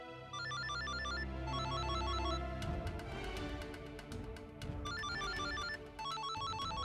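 Telephone ringtone plays a repeating melodic electronic ring under a dramatic music score, loud and close, pausing briefly mid-clip before the ringing resumes.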